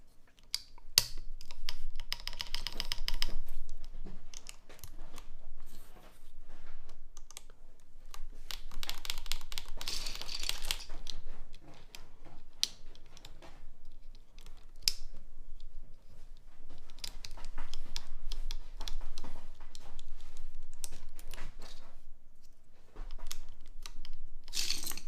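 Typing on a custom Pixelspace Capsule mechanical keyboard fitted with an FR4 plate, with rapid clacky keystrokes in bursts and brief pauses, close and clear with no talking.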